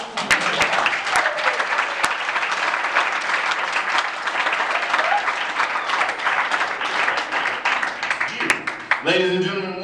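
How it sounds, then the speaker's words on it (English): A comedy show crowd at ASU claps for a stand-up comedian, a dense steady burst of applause lasting nearly ten seconds, fading as a host starts talking at the end. "Give her a round of applause"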